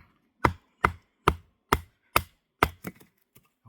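A hollow-ground survival knife strikes into seasoned oak, giving six sharp, evenly spaced chopping knocks followed by a few lighter taps, close and clear with no voices.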